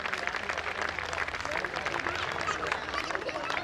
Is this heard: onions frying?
no